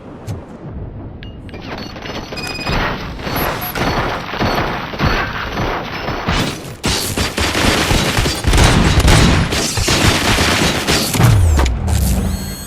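Sustained gunfire in RoboCop: Rogue City, dense rapid bursts of shots and heavy booms rattling continuously for several seconds, loud and close with no talk.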